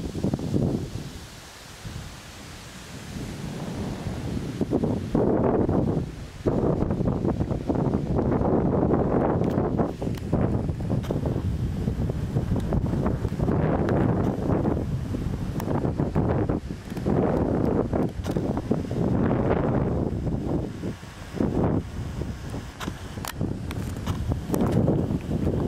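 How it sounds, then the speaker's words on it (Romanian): Wind blows hard through the Nera Gorge in the Anina Mountains of Banat, near a suspension bridge, as a steady, loud, broadband roar buffeting the microphone and gusting throughout, with no talking. "Bate vântul."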